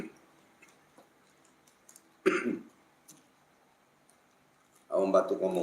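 A cough bursts out near the mic at a live prayer and sholawat gathering for patients, with a second, longer coughing fit at the end, separated by a quiet stretch with faint ticking.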